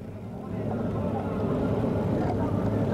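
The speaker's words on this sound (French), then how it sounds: "on s'apprête à lancer les moteurs à fond pour le départ" Racing motorboat engines at the start of a 5-litre class final at the 1995 Valleyfield regatta, a loud steady roar that swells after the first half-second and holds, with a commentator talking over it.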